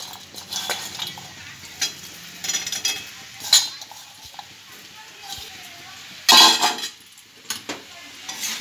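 Fish and potato pieces fry in a pan with a soft, steady sizzle. Metal utensils scrape and clink against the pan in irregular bursts while the food is stirred, with a louder clatter near the end.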